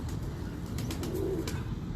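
Pigeons kept by a breeder coo softly with a low, throaty murmur beneath a steady background hiss, along with a few faint rustles and short chirps.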